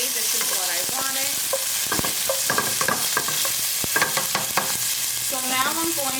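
Pork browns in a pot for Puerto Rican style beans, giving a steady, close sizzle and crackle with scattered sharp pops and spitting throughout.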